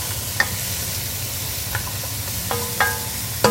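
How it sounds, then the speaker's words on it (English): A spoon stirs carrots and chicken in a cooking pot for chicken cacciatore, scraping and clinking a few times against the pot over a soft background sizzle. "we got these carrots in the pot. Of course, we're going to stir it up"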